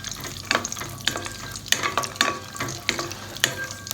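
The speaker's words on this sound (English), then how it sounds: "I will roast it well in the ghee" Cashews and almonds roast in ghee in a pan, a soft steady sizzle broken by repeated sharp scraping strokes of a spatula, close and regular, with no voices.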